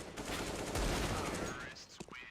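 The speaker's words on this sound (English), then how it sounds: "They're pistoling opponents from their hidey holes." Pistol fire rattles in a Counter-Strike: Global Offensive match on the Cache map, with dense, overlapping shots in a sustained flurry, fading into scattered game sounds at the end.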